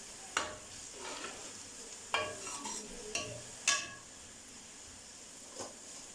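Garlic frying quietly in oil for beef palak gosht, a soft low sizzle broken by a few sharp clinks and scrapes of a spoon against the pot at irregular intervals.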